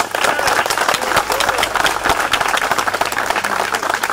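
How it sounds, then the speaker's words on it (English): Audience clapping warmly for the family at an outdoor street dedication ceremony, a dense, steady round of applause from a crowd with scattered voices mixed in. "So can we give the family a big hand clap,"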